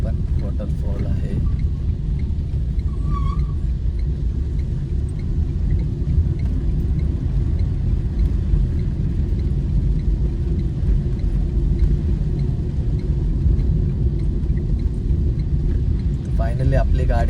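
A Tata Tiago EV electric car climbs Malshej Ghat, giving a steady low rumble of tyres and road noise inside the cabin, with faint brief sounds near the start and end.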